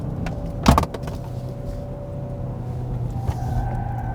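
A Genesis G80 drives along in third gear, heard from inside as a low, steady engine and road rumble, with a sharp clunk or rattle early on and a brief tonal whine.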